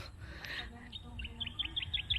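Birds chirp on an open-field off-grid farm in the Philippines, a quiet series of short, rapid high tweets that grows more regular toward the end over faint low background rumble.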